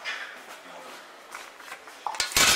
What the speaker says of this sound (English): And I'm gonna set the lid on here so it'll get hot.